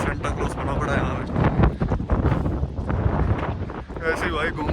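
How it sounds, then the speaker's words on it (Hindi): Strong outdoor wind buffets the microphone in rainy weather, a loud continuous roaring rush throughout with speech mixed in. "यहाँ तो बहुत है इसकी, बहुत ज़्यादा हवा चल रही है, बहुत ज़्यादा।"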